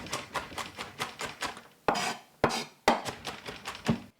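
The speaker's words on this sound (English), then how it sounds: "Smash and chop the garlic." A knife smashes and chops garlic on a board: quick regular taps of steady chopping, then several heavier, louder thumps spaced apart, followed by more rapid chopping, all close and clear with no talking.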